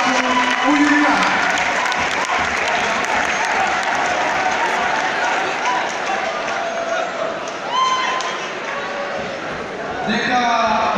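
Large audience at the Miss Rwanda 2018 pageant applauding continuously, a dense, loud sustained clapping with cheers and a voice over a sound system.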